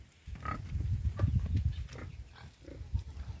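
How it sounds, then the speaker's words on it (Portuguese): Pigs grunt and snuffle in a pigsty on a drought-stricken farm in northern Minas Gerais, Brazil, with a low, irregular string of fairly quiet oinks and no speech. "Os porcos no chiqueiro."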